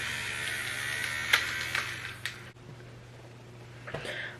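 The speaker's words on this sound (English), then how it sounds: "use this little fan to kind of dry everything" A small handheld fan blows on a face to dry setting mist, giving a steady close whirring buzz with a few brief bumps and rustles as it is moved.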